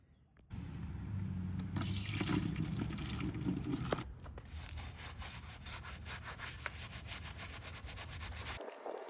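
Scrubbing and rinsing a Dana 44 rear JK axle with degreaser and water: a close, steady rubbing and brushing sound, then a rushing spray of water that continues until it stops near the end.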